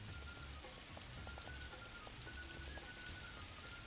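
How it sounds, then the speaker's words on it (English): Steady rain falls in the video game Minecraft, a soft, even hiss of drops on surfaces that stays constant and faint, with no talking. "Oh, the rain sounds nice."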